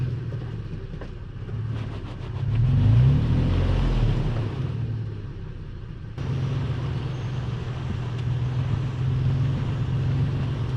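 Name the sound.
Toyota FJ Cruiser engine revving while stuck on trail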